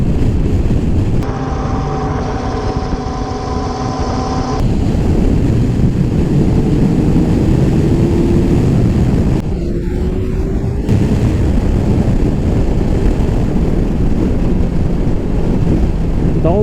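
A Suzuki Hayabusa motorcycle rides at speed, heard from an onboard camera as a loud, steady engine roar with heavy wind buffeting, a brief rising engine note, and a short gap where the sound drops away.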